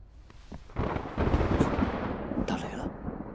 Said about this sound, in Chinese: 打雷了